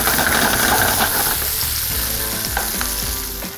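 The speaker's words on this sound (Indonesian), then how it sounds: "kita tumis sampai agak layu dan agak berubah warnanya sedikit" Ginger, scallion and chili stir-fry in a hot pan with a loud, continuous sizzle, as a spatula scrapes and knocks against the pan in irregular strokes.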